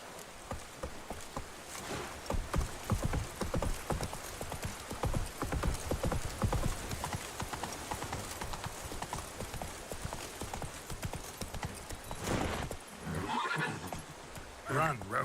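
Roach the horse gallops in The Witcher 3, with rapid, steady hoof clip-clops, a neigh, and a voice speaking now and then over the running.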